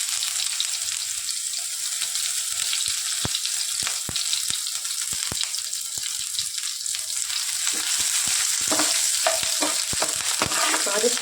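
Dry red chillies and onion fry in hot oil with mustard seeds for temple-style puliyogare, a loud, continuous close sizzle broken by sharp clicks and pops of stirring throughout.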